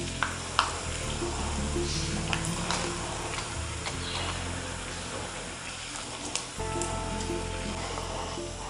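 Potato papad (happala) frying in hot oil gives a steady, continuous sizzle with scattered crackles and small ticks throughout, close and fairly loud with no talking.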